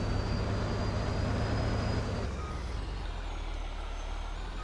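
A truck in Farming Simulator 22 reverses with a steady high backup beep over a constant low engine rumble, the engine note dropping partway through.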